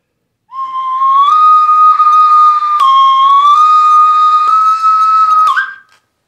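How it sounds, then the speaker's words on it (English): A 3D printed slide whistle played in one long sustained, loud tone that bends slightly up and down in pitch, ending with a short squeaky jump, alone with no voices. "it actually works as a slide whistle"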